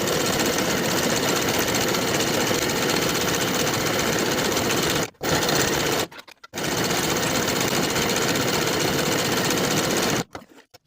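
A home sewing machine runs fast and loud, sewing a stretch stitch along the top seam of leggings with a half-inch allowance. It hums continuously, cuts out briefly twice midway, then stops near the end.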